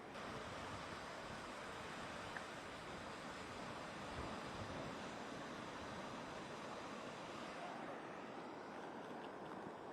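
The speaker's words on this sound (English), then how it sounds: "it's a lot of wind" Strong, steady wind roars across a San Diego beach during Storm Hilary, buffeting the microphone in a continuous dense rush with surf beneath it, loud and unbroken for the whole stretch with no talking.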